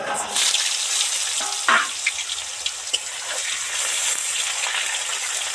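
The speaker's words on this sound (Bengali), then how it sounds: "সবার আগে পটলটা তেলের মধ্যে দিয়ে" Pointed gourd frying in hot oil in a kadai, with a little salt sprinkled in. A steady close sizzle hisses throughout, broken by a few sharper pops and crackles.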